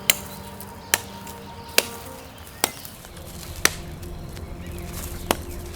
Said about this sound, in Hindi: मुझे पेड़ कटने की आवाज़ आई।